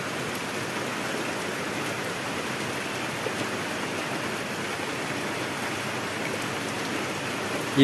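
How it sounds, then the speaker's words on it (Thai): Steady rain falls outdoors as a continuous, even hiss of drops on surfaces, fairly faint and unbroken throughout with no voices, ending in a slight bump of noise. "โอ้ฝนตกอยู่เนาะ"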